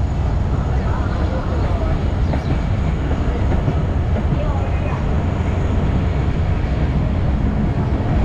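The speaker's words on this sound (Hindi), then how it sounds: "दोस्तों ट्रेन चल चुकी है डिगरोड रेलवे जंक्शन से" A passenger train rolling out of Digroad railway junction on the Karachi to Kotri line, heard from on board as a steady, loud, continuous rumble with faint rail clatter throughout.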